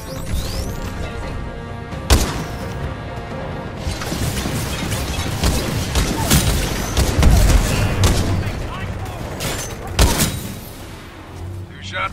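Gunshots in a video game ring out among loud booms and crashes, with sharp reports near 2, 6.5 and 10 seconds over constant game noise while a voice talks.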